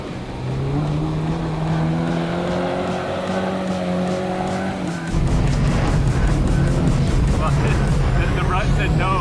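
All-wheel-drive four-rotor rally car drifting around a cone, its engine note steady and loud at first, then tires squealing and skidding harshly as the slide builds, with a voice talking over the engine throughout.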